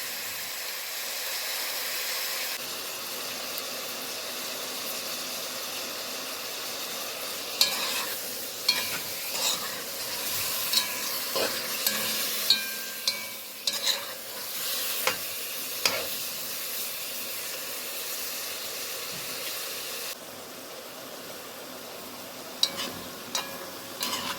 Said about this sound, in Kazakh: Етімізді әбден қуырып аламыз, қызартып.